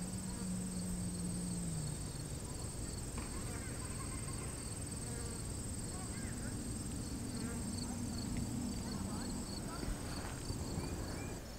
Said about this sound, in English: the bees are enjoying the seaside lavender